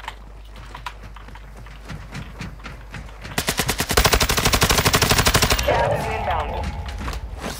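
Gunfire in the Call of Duty map Vondel, with rapid, closely spaced shots erupting loud and near midway through and continuing in a dense volley over a quieter, busy game background.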